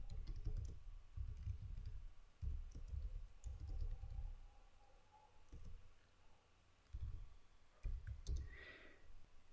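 Keystrokes on a computer keyboard while Java code is typed, coming in irregular bursts of soft, close clicks separated by short pauses, with no talking.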